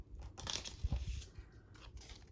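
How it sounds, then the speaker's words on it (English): Soft, irregular crunching and tearing close by as a dog gnaws a pig's ear, with a burst of denser crunches in the middle. "I can hear my dog chewing on something."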